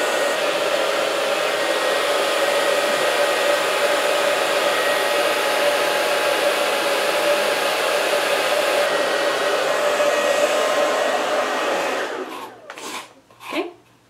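An Onyx Professional hair dryer blows with a loud, steady whooshing drone for about twelve seconds, then switches off, leaving a few brief handling sounds.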